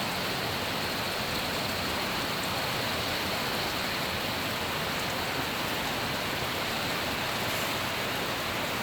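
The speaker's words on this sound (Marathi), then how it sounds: "काल रात्रीपासून काही ठिकाणी जोरदार तर काही भागात रिमझिम पाऊस सुरू आहे" Heavy monsoon rain falls steadily in Maharashtra, a loud, dense, unbroken hiss of downpour spread evenly across the whole stretch with no voices.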